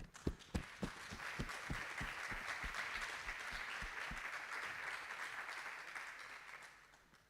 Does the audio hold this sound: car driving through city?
no